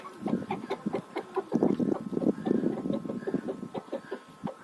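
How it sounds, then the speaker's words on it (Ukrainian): Hens cluck and murmur in a farmyard, a dense run of short, overlapping clucks close by, with no talking. "І ще одна крупненька курочка також прийшла сюди."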